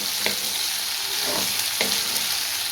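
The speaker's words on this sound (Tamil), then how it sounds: "நல்லா ஃப்ரை பண்ணி எடுத்துப்போம் சிக்கன் வந்து நல்லாவே வந்து ஃப்ரை ஆகிடுச்சு" Chicken pieces frying in a pan for chicken gravy hiss loudly and steadily up close, with a few soft scraping stirs breaking through the continuous sizzle.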